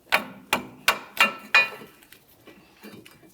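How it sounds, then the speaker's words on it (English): A hammer strikes the front strut on a 2006-2012 Ford Fusion five times in a steady rhythm, each blow a loud, ringing metallic clang, followed by a few fainter taps as the work eases off. "You may have to use a hammer."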